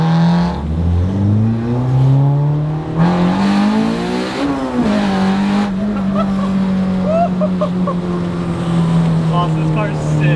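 A Spoon Type One Honda Civic Type R engine runs loud and close, its rising and falling note rolling steadily as the revs climb and settle, with voices faintly underneath.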